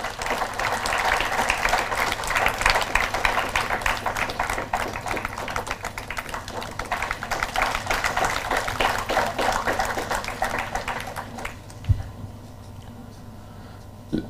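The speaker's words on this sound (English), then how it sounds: "So please welcome with a big round of applause Mr. Sanjeev Rao." Sustained audience applause welcoming a speaker at a plenary session of a university leadership conference, dense and steady for about eleven seconds before stopping abruptly, leaving quiet room tone with a single faint thump.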